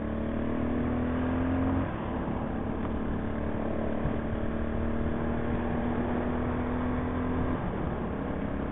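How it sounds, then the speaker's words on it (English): A Big Boy TSR 250 motorcycle cruises at about 60 km/h in fifth gear, its engine a steady, loud drone with wind rush and a small shift in pitch partway through. "So I'm sitting doing 60 k's an hour. I'm already in fifth gear, and I'm at a good cruising RPM."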